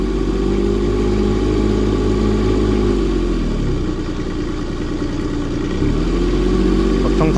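A 1-ton Kubota mini excavator's engine runs close by, its steady drone dropping as the throttle lever eases the RPM down, then rising again toward the end.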